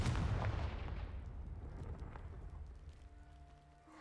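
A Confringo fire spell bursts in a Hogwarts video game, one loud booming blast at the start that rolls off into a long fading rumble, with a faint tonal hum surfacing near the end.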